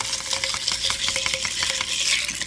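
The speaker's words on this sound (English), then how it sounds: "Give it another little stir." Ice cubes clink against a glass as a drink is stirred with a spoon, a steady run of close, bright rattles with no talking.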